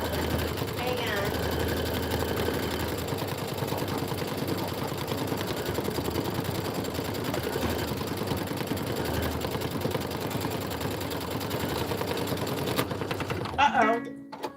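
A domestic sewing machine stitches a Kimberbell Home Sewn tiling scene, running in a steady, dense whir for most of the stretch before stopping abruptly with a short clatter near the end.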